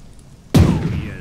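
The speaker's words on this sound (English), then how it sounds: "We're going to use our big guns on the heavy cruiser so they can't fire back." Big naval guns firing on a heavy cruiser in the Pacific war strategy game Strategic Mind: The Pacific: one sudden heavy boom after a quiet moment, loud and close, trailing into a rumbling decay.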